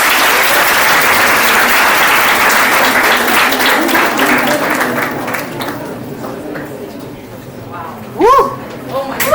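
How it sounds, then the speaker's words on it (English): A big crowd applauds loudly and steadily to welcome a speaker, the clapping gradually thinning out, then a few voices and a whoop break through near the end. "Let's welcome Miss Natasha Bhardwaj with a huge round of applause."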